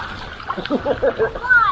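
Waves rolling and sloshing under the hull of a catamaran at anchor in a sheltered spot, with irregular close splashes and gurgles under a quiet stretch.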